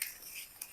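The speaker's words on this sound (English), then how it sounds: "I'll cut it like this" Scissors snipping through fabric while a blazer dress is cut out, two or three quick, faint, close cuts with no talking.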